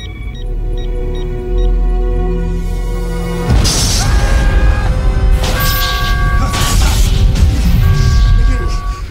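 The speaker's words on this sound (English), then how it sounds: "But at least try and channel the explosion to the transporter buffer." A sudden deep boom erupts partway through, followed by a rumbling, crackling roar that sustains loudly under electronic tones, as an explosion hits a starship in Star Trek: Deep Space Nine.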